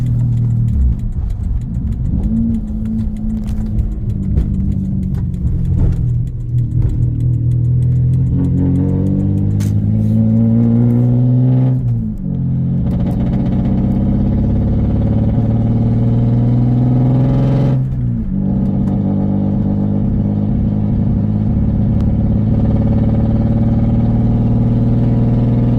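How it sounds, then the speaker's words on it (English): A straight-piped V6 car with a 5-speed, running low on fuel, revs hard at wide open throttle, its loud droning exhaust rising in pitch through repeated pulls with brief dips between them, close by. "Wide open throttle, not even 3/4, it won't stutter and misfire too bad."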